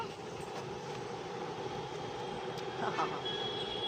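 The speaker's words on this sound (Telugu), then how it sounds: "మళ్ళీ ట్రైన్ వచ్చింది చూద్దాము వచ్చినప్పుడే చూడాలి మనం" A train rolling past at a distance, a continuous low rumble with rail clatter and a faint squeal, fairly quiet behind someone talking.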